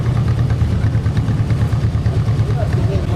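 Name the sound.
1952 John Deere Model MT tractor engine in parade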